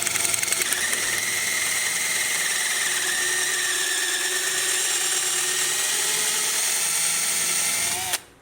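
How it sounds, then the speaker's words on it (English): Power drill boring holes during a Dana 60 axle swap on a 1979 Jeep Cherokee Chief, a loud steady whine held for about eight seconds that cuts off abruptly at the end. "Make sure you drill them on both sides."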